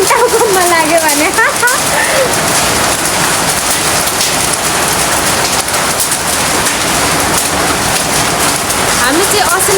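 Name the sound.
hailstones falling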